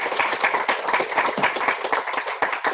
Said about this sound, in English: nice round of applause for David